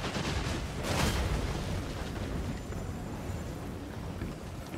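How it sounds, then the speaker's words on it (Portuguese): Steady rain falls over a desert battlefield in Total War: Warhammer 3, a dense, even hiss that holds at the same low, soft level throughout with no voices. "E tá até chovendo aqui, você vê?"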